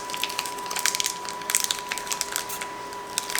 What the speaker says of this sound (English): I'm just going to unwrap these Hershey's Symphony bars